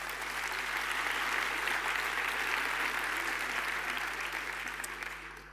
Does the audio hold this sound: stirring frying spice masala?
no